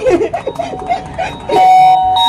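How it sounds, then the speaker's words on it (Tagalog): An electronic doorbell chime rings loudly, a few quick tones followed by a long sustained ring, with some indistinct voices early on. "Tumutunog yung doorbell?"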